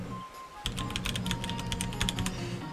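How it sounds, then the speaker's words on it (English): Quick typing on a computer keyboard as a song name is entered, a rapid run of light clicking keystrokes close by after a brief quiet start. "you type in the song you're looking for"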